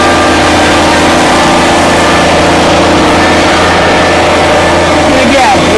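A 2019 Kubota BX23S compact tractor runs in high range, its engine giving a loud, steady, close-up drone throughout.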